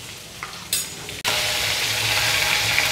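Pointed gourd frying in a pan with a little salt and turmeric: a quieter sizzle, then a sudden cut, followed by a louder, dense and steady hiss of hot oil that continues evenly, close up and with no speech.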